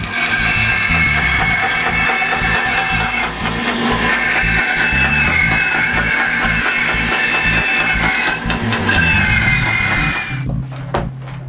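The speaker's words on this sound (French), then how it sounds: "Je dois donc les percer à main." Holes drilled by hand into wooden boards, a loud, continuous grinding and rasping of the bit biting into the wood, ending in a brief pause with lighter scraping.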